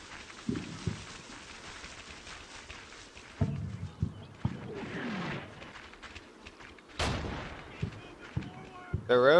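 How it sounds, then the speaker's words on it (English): Mortar shells exploding in the Combat Mission: Battle for Normandy video game, several sharp booming impacts at uneven intervals amid rattling gunfire and a quieter battlefield background. "Ooh, that was a good shell, mortar."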